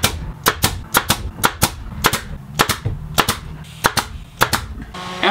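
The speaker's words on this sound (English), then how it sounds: "I'll shoot some pin nails down through the top" A pin nailer fires repeatedly into wood, sharp snapping shots in an irregular rhythm, close up with little else around.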